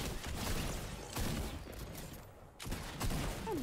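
Rapid shotgun and gunfire blasts from a video game fill the clip, loud and dense, with repeated bursts across several seconds.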